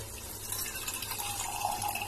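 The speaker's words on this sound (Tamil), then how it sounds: "நீங்க இந்த கப்ல 2 கப் தண்ணி ஊற்றிக்கோங்க." Measured cups of water run steadily into a cooking pot for biryani rice, a soft, continuous splashing hiss, close and fairly quiet, with no talking.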